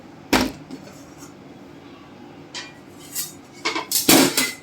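A pot of cooked moong dal khichdi is shifted from one gas burner to another, making a sharp metallic clank, then quieter shuffling and a cluster of clattering knocks near the end, no talking.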